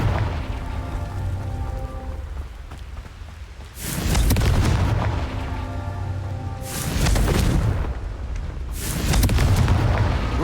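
In Hogwarts Legacy, the Confringo blasting spell explodes three times, loud booming bursts with rumbling decay spaced a few seconds apart over a steady game background.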